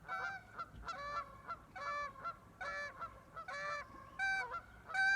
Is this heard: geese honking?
yes